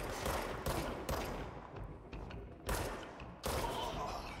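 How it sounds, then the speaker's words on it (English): Bursts of gunfire in the video game Control, several sharp volleys in irregular rhythm, fairly close and loud. "Who's shooting me?"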